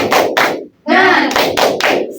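A classroom of students claps a rhythmic spirit clap in tight unison, loud bursts of claps separated by a short pause in which voices chant together.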